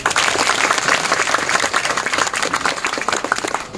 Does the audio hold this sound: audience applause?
yes